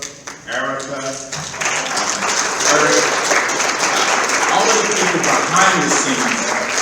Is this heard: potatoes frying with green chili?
no